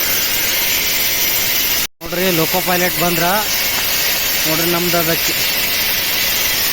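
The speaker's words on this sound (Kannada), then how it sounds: "ಸೌಂಡ್ ಬರಾಕತ್ತೈತಿ. ಯಾರು ಚೈನ್ ಪುಲ್ ಮಾಡ್ಯಾರ ಗೊತ್ತಿಲ್ಲ." A train's air brakes hiss loudly and steadily after an emergency chain pull on the Panchaganga Express, Bengaluru to Murudeshwar. The hiss dips briefly near the start, and voices talk over it.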